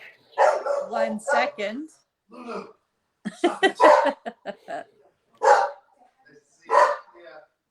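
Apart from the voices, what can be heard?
boxer dogs barking at someone at the door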